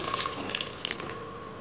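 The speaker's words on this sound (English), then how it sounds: "adding water almost the same quantity as rice" Water poured into a pot of rice for methi matar pulao, a continuous soft splashing, bubbling stream with small liquid pops close by.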